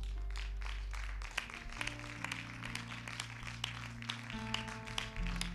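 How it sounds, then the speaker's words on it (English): A church congregation claps along during worship, a steady patter of hand claps over sustained keyboard or organ chords, moderately quiet and continuous throughout. "Let's give a hand clap to the Lord."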